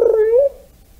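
A kitten gives a single clear, close meow that rises slightly and fades within half a second.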